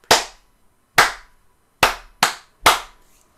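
Five sharp hand claps in a short rhythmic pattern during a music class, close and loud with silence between them.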